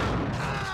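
A grenade blast in the video game Max Payne, a loud, heavy boom with a rumbling tail that fills the brief moment.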